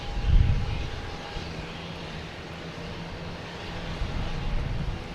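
A Japan Airlines airliner at Boston Logan Airport gives a low, steady engine rumble with a faint tonal whine, moderately distant and continuous, slightly louder at the start and end.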